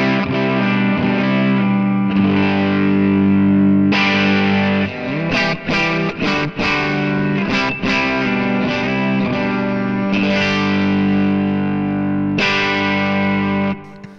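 An electric guitar run through a Line 6 Helix plays thick distorted chords and a busier riffing passage in the middle, loud and sustained, with no talking.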